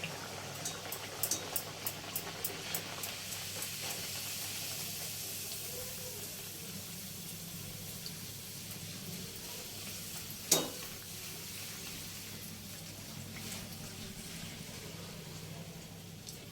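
Sattu-stuffed kochuri deep-frying in a pan of hot oil: a steady, close hiss of sizzling runs throughout, with a few faint taps early on and one sharp clink near the end.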